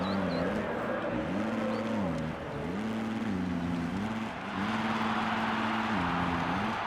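A 250F dirt bike engine in a motocross video game drones steadily and loudly, its pitch rising and falling in repeated swells as it revs through rhythm sections, with no voices over it.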